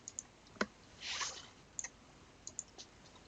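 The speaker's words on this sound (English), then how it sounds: "So I'll click on the Prepare Data submenu" Several sharp, faint computer mouse clicks land at irregular moments while someone works through a software menu, with a short soft rustle in between.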